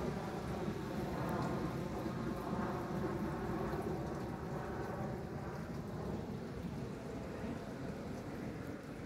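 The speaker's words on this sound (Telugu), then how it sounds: "ఇక్కడ నిన్నటి నుంచి వర్షం పడుతుంది" Steady rain falls outdoors along a residential community road in North Carolina, a dense, continuous hiss with low rumbling underneath and no voices.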